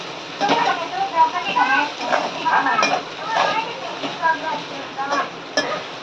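Kande poha with turmeric, salt and coriander stirred in a pan, giving soft, repeated scraping and clinking of a utensil under continuous talking.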